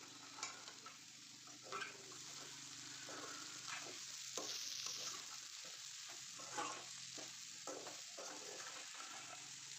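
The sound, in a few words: stirring okra curry in a pan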